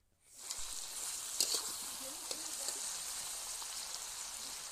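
Meat frying under a lid in a home kitchen while a curry is cooked, giving a steady, soft sizzling hiss. The sizzle starts after a short silence and stays even throughout.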